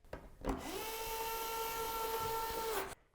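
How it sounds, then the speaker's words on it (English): A power screwdriver drives lid screws into a range hood housing, one continuous high whirring burst of about two and a half seconds, close and loud, starting and stopping abruptly. "use your screwdriver to put the lid screws into the housing and lightly secure them"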